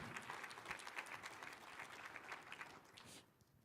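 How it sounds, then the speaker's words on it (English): Steady applause from the audience at the Rock Island state of the city address, honouring council members. Dense, sustained clapping from a sizable crowd, fairly distant and even, fading toward the end. "So I want to give the council members another round of applause"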